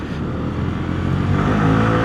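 A 2026 Aveta Viper 180 scooter engine drones steadily while cornering, loud and close, with a slight rise in pitch toward the end.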